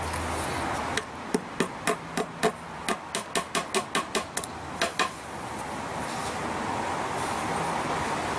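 A small nail is hammered into a broken tape measure with a clamp: about fifteen sharp, evenly spaced metallic strikes up close, speeding slightly midway, then stopping, with quiet room noise before and after.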